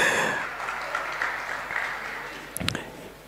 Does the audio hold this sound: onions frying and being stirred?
no